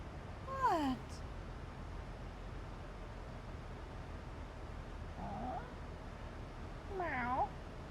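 Faint cat meows, one early, a soft short one midway and a final drawn-out call, over a steady low hiss and quiet background noise.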